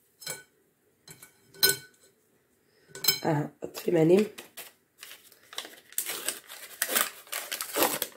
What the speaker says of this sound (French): Je vais tamiser aussi un sachet de levure chimique.